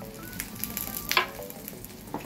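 Food sizzles quietly in a pan at home, a soft frying hiss broken by a few brief clatters and scrapes.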